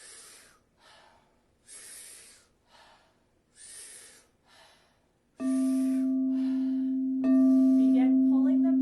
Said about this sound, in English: It's a powerful inhale and a soft exhale.